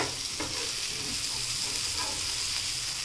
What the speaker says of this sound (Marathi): आता आपण परत 5 मिनटासाठी यांना मस्तपैकी फ्राय करून घेऊयात.